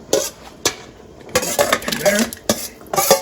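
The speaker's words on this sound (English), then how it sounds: "I'm just going to crush up this pumpkin and put it right back in." Boiled pumpkin being crushed in a pot of Jamaican beef soup, with several sharp metal utensil clanks and scraping against the pot in irregular bursts, close and fairly loud.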